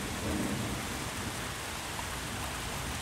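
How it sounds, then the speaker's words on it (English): Steady, heavy rain pours down on a beaver pond throughout, a dense continuous hiss of drops without any voices. "It begins to rain for days."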